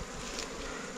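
Honeybees at a wild nest give off a dense, continuous buzz, loud and close, with no voices, while ants attack the bees at the enlarged hollow.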